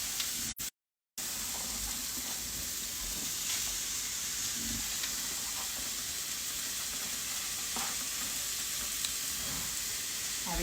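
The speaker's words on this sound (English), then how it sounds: "so into the pan of the asparagus" Asparagus sizzling in a hot pan, a steady, moderately loud hiss and crackle with scattered pops and stirring sounds, heard alone after a brief dropout at the start.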